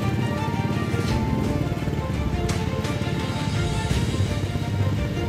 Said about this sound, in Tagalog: Bugso-bugsong pagulan, yan, umuulan na naman.